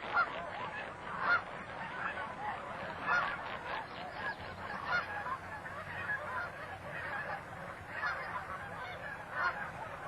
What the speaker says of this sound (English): You can tell these are taverner's geese by their light breasts and short necks.